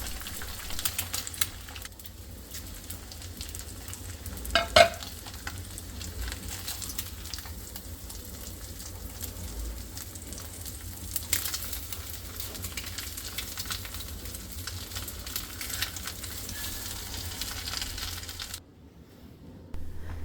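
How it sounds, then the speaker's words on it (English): An egg frying in a pan makes a steady, fine crackling sizzle, moderately close and even, with one brief sharp tap midway before it cuts off near the end. "I'm going to go ahead and fry my egg"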